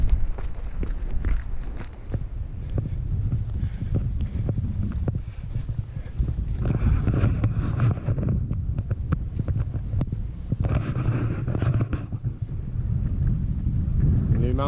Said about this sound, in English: It's an icy wind today.